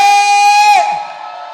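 Crowd of a church congregation cheering for a youth and young adult ministry, starting with a sustained high whoop that breaks into mixed shouts and fades.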